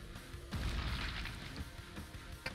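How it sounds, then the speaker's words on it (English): A single loud explosion booms in the video game Quake II, a deep blast with a rumbling tail, followed by faint game sounds. "if an explosion can't do it, then I am all out of ideas"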